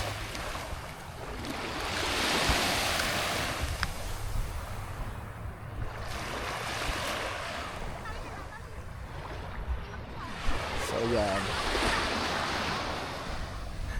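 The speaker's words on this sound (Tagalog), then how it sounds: "Sa tabing dagat." Waves washing onto a seashore where fishing boats are kept, with wind gusting over the microphone in a continuous rolling roar and surges that rise and fall; a voice speaks briefly.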